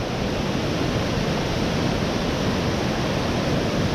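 Small river waterfall at a fish ladder and hatchery where salmon jump, heard as a loud, constant rush of falling water that fills the scene without a break or voices.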